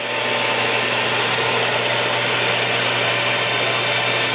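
A precision lathe spins steadily at 1170 RPM, giving a loud, continuous machine whir with a faint tonal hum and no break for the whole stretch.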